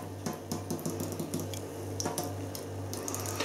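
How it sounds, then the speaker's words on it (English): Oskar Blues Deviant Dale's IPA gushes and foams aggressively into a glass, a dense fizzing, splashing pour with crackling bubbles over a low steady hum and no voices. "Probably it's all down to my beer pouring."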